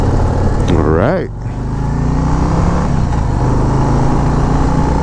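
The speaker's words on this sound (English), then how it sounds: "Can't believe I'm on this bike right now too, man." A Harley-Davidson touring motorcycle, bigger than a regular Road Glide, ridden on warm Florida roads on the Daytona Ormond loop, with a steady loud engine drone and wind rush throughout, a brief rising rev near the start, and someone talking over it.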